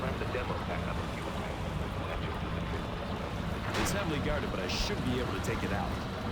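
A boat motoring across open water in the video game Far Cry 1 gives a steady, close rushing wash of hull, spray and wind with a low engine drone, and the level holds constant throughout.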